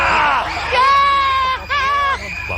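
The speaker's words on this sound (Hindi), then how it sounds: "वहाँ पे क्या हाई पिच की चीख है" Shrill, high-pitched screams from a contestant on the Takeshi's Castle game show, several wavering bursts with a brief break between them and crowd noise underneath.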